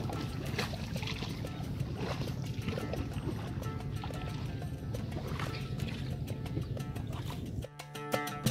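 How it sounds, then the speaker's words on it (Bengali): A boat glides along a narrow canal toward the Ratargul swamp forest in Sylhet, with a steady, close wash of water and motion noise throughout and a brief drop near the end. "সরু এই খালে ভাসতে ভাসতে নৌকা আগাতে থাকে জলাবনের দিকে।"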